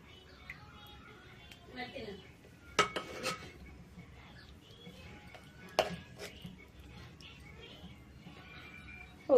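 Fish curry with brinjal being served onto a plate: a few sharp clinks of dishes and utensils, loudest near the third and sixth seconds, over a soft background of kitchen shuffling and quiet voices.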